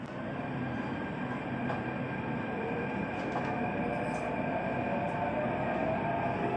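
A metro train near Parandur rumbles steadily past, a continuous broad roar of wheels and rails with faint high squeals, fairly close and unbroken throughout, with no talk.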